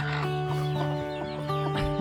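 Native Siruvidai country chickens on a farm cluck continuously in a steady, close run of short repeated calls, with several birds overlapping.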